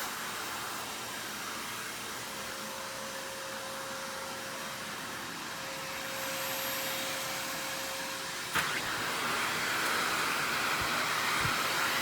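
An Aerus Lux Guardian 90th Anniversary upright vacuum cleaner runs with a steady airy whoosh and a faint whine, the pitch shifting slightly partway through before a short knock and a brighter roar near the end.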